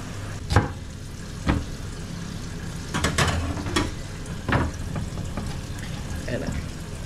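Chopped ginger sautéing in a pan, a steady close sizzle broken by a few sharp spoon clinks and stirring scrapes, with a voice faintly present.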